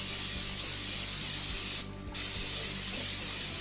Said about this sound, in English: coat it well inside with the spray vegetable oil